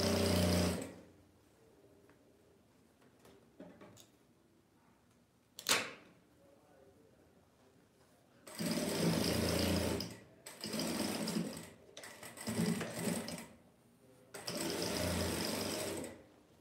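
A sewing machine stitches fabric scrap strips in several loud, close bursts of rapid mechanical rattling, separated by quiet pauses and a single sharp knock.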